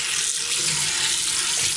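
Water runs steadily from a kitchen tap over a spatula being washed with Dawn Power Wash, a loud, close, continuous splashing hiss into the sink with no voices.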